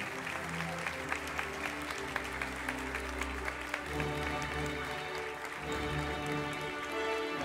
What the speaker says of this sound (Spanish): Renovamos ese aplauso.